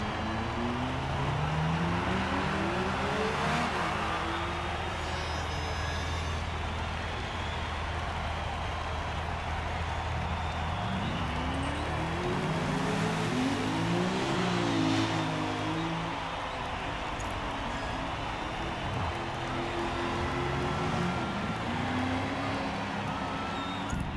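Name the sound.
GT race cars driving in a racing video game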